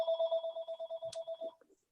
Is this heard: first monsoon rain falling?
no